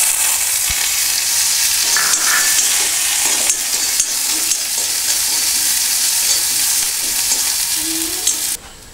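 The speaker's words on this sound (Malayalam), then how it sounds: "അല്പം കടുകിടാം. കടുക് പൊട്ടിക്കഴിഞ്ഞ് നമുക്ക് ചെറിയുള്ളി ചെറുതായി അരിഞ്ഞത് ഇടാം." Mustard seeds and finely chopped shallots fry in hot oil for a Malabar-style chicken curry, giving a steady, close, continuous sizzle with faint stirring and no talk.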